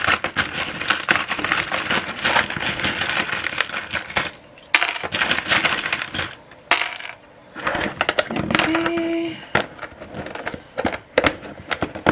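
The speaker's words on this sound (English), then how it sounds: "I'm going to make a little bit of noise here and throw them in our handy dandy, I don't know, box thing." Small oracle charms tossed into a box, a busy run of clattering, clinking metallic rattles and scattered drops over about twelve seconds, close and fairly loud, with brief pauses between handfuls and no talking.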